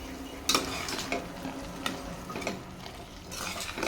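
Steady sizzling of vegetables frying in a pan, with occasional scrapes and clinks of a utensil stirring, no voices.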